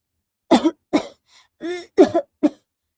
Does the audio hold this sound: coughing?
yes